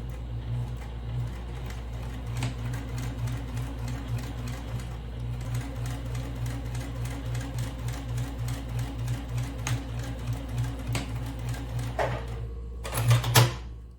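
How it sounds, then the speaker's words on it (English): A sewing machine stitches a small fabric mini purse, running in a fast steady mechanical whir with rhythmic needle clatter, close and clear, then slowing to a stop with a brief rattle near the end. "I remove my sewing pin here, and I'm going to start to sew."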